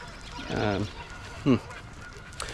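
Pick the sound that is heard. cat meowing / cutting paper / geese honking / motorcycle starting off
geese honking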